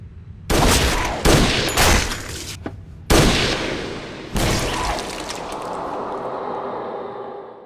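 Gunfire in the Aldnoah Zero anime as Saazbaum shoots the princess: several loud, sharp broadband bursts in quick succession, followed by a lingering reverberant wash and low rumble, with no voices.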